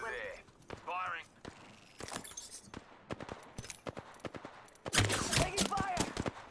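Apex Legends gunfire, fairly faint. Rapid cracks and sharp bursts are scattered through the clip and swell into a denser flurry near the end, mixed with game voice chatter and effects.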